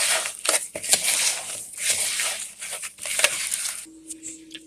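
Hands mixing meatloaf ingredients with minced onion and Worcestershire sauce, wet squishing and crushing in irregular pulses, close and fairly loud, ending with a brief tonal sound.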